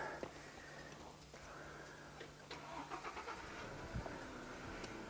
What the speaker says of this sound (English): for this exercise, we need to restart the car